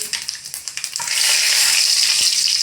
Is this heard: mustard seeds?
yes